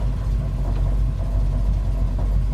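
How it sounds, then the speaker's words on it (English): The engine of a 1970 Dodge Challenger convertible idling with a rattle, a steady low rumble close by carrying a faint, irregular rattling over the even drone. "when I'm at idle, and we'll see if you can hear this. A nice little rattle noise, right?"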